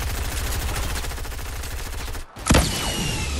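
Steady rattling gunfire in Fortnite, close and loud, cut by a brief gap before a sharp sniper rifle crack and its ringing tail.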